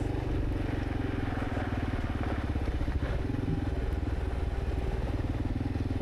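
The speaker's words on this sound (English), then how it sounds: "you can see Phil's quite the master on the F900" An F900 motorcycle runs along a dirt track in far north Queensland hill country, its engine a steady, close droning rumble with a faint rattle throughout and no speech.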